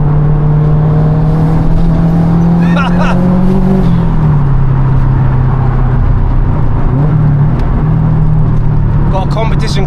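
A 500 bhp four-wheel-drive Subaru estate on semi-slick tyres, with a competition clutch and six-speed conversion, drones loudly and steadily from the cabin. The engine note shifts pitch briefly partway through, with voices faintly present.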